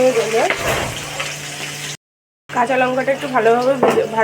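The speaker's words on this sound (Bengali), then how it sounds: "কাঁচা লঙ্কাটা ভালোভাবে ভাজা" Green chillies fry in hot oil with cumin and bay leaf, giving a steady close sizzle that breaks off briefly and then resumes, while someone talks over it.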